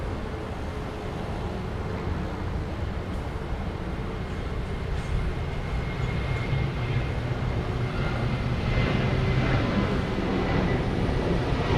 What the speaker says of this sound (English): it looks like we have a passel of planes coming, getting ready to take off here on the east side